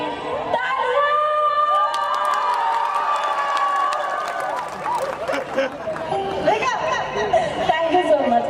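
A crowd cheers and claps energetically, with shouts and whoops rising over the din and a voice calling out above it.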